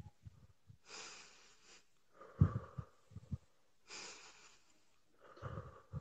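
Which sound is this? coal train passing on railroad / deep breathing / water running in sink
deep breathing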